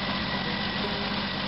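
A 1983 Jeep CJ7 engine idles slowly and steadily, a continuous close mechanical drone with no talking.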